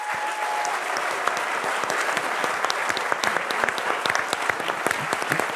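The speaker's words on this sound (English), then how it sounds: "let's give our candidates a round of applause." Sustained audience applause for candidates at a California governor's debate fills the room steadily, dense clapping from a large crowd with no voices on top.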